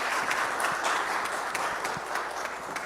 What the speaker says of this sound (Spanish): Un aplauso a nuestro expositor.